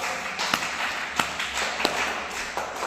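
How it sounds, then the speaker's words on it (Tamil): Hands clapping during a Tamil church sermon, heard as a few sharp, evenly spaced claps roughly every half second over a steady room murmur. "கையை தட்டு"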